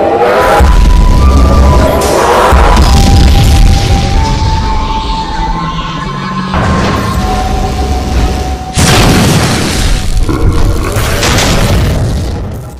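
Cannon shots in a Skibidi Toilet animation: loud booming blasts with crashing debris and mechanical clatter, heavy impacts recurring over a dense cinematic soundtrack.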